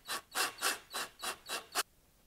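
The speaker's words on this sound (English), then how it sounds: "I just take a 3-inch screw and I will screw it right into the side of my workbench" A 3-inch screw is driven into the side of a wooden workbench, heard as seven rhythmic raspy grinding bursts, close and fairly loud, that stop abruptly with no talking.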